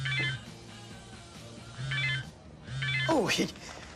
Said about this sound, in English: Oh, I got a text from my girlfriend.